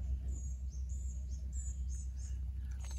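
Small birds chirp and tweet repeatedly near a hardy kiwi vine outdoors, their high calls scattered across the moment over a steady low rumble of background noise.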